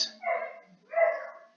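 A dog barks in the background, two separate short barks about a second apart, fairly loud and clear with no talk over them.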